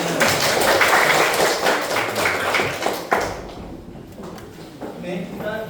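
A group of people clapping hands together indoors, a dense burst of applause that fades after a few seconds, followed by a person talking.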